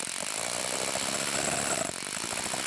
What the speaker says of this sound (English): This is concrete, and we are using step 2 for max speed.